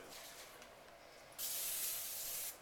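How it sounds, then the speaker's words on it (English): Canola oil cooking spray hisses from an aerosol can onto a baking pan for brownies in one steady burst of about a second, close and fairly loud after a short lead-in. "Then you must spray your pan with canola oil."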